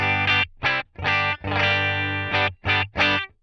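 An electric guitar played through Headrush Flex Prime effects strikes a series of distorted chords in short, choppy bursts with one longer ringing strum in the middle. The chords are loud and close, with no talking over them.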